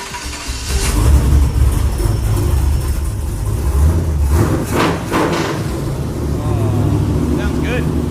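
An old truck engine cranks and catches, then runs with a low rough rumble and some revving, recorded close with voices talking over it.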